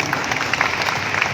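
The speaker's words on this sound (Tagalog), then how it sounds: "So palakpakan natin sila." Steady applause from a congregation at a church prayer service, a dense, even patter of many hands clapping close by without pause.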